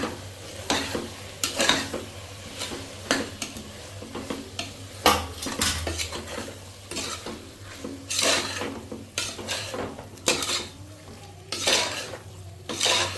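Handfuls of mint and coriander leaves being sautéed in a pan for mutton biryani, with repeated spatula scrapes and clinks over a soft sizzle and a low steady hum, close up, no speech.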